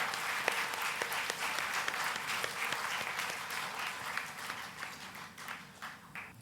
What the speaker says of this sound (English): let's give a round of applause for our musicians